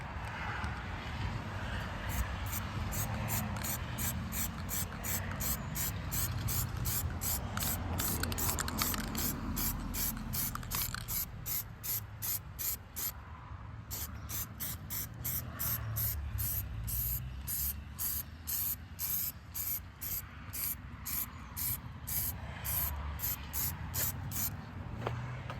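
Plasti Dip glossifier sprays from an aerosol can onto truck mirrors in a long run of short hissing bursts, close and fairly quiet, with one brief pause partway through.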